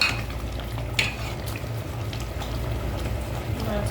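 Jute leaf dal frying in a pan and being stirred, a steady low bubbling sizzle with scraping spoon strokes and a sharp clink near the start.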